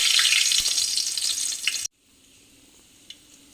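Curry leaves crackle and sizzle loudly as they hit hot oil for a toor dal curry, a bright frying hiss that cuts off abruptly, leaving a quiet low background with one small clink.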